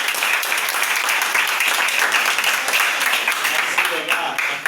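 A crowd claps and cheers for a youth football academy team at a ceremony, dense sustained applause that fills the whole stretch, close and loud, with voices mixed in.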